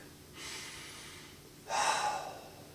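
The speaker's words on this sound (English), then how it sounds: "I want you to take a breath" Two soft breaths sound close by in a quiet room, a gentle inhale followed by a stronger, airier one near the end, with no talking.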